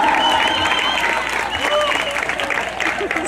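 Loud, continuous crowd applause fills the hall at a ranch anniversary celebration, a dense steady clapping throughout with faint cheering under it.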